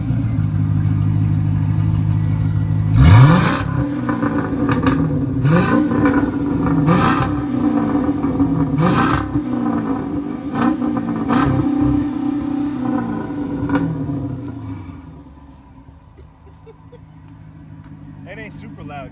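A Dodge Charger Scat Pack with straight pipes revving hard several times in loud, rising bursts that fall back to a rumbling idle, then quieting toward the end.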